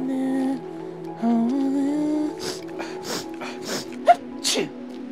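A person imitates sneezing with a series of short, breathy, forced bursts that follow a stretch of hummed, tonal sound, all close to the listener.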